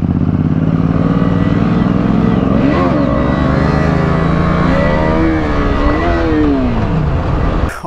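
KTM motorcycle engine held at steady high revs during a wheelie on a dark road beside a canal, loud and continuous with pitch rising and falling across the run, no voices over it.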